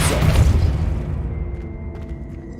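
A Depulso force spell cast in Hogwarts Legacy, a heavy booming whoosh that starts loud and decays over a couple of seconds into a fading rumble, with no talking.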